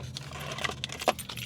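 A bunch of keys jangles up close, with light metallic clinks and small taps scattered over about a second and a half, over a low background hum.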